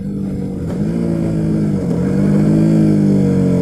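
A KTM RC motorcycle slowing on gear-cut engine braking with no brakes applied, a steady loud engine drone with a falling and shifting tone, close and continuous throughout.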